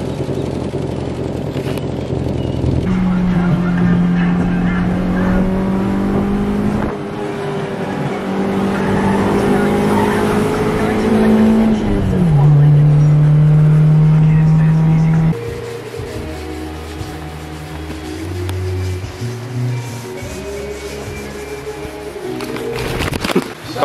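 Nissan S13 with an aggressive cam idles and revs loudly nearby, its choppy lumpy idle rising through steady sustained revs and dropping back to a rough, loping idle, with faint background voices.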